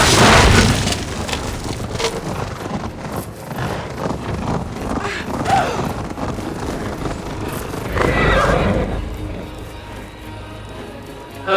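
Horses gallop in a race in Assassin's Creed Valhalla, with steady hoofbeats, whinnies and rushing movement under loud speech and game sound throughout.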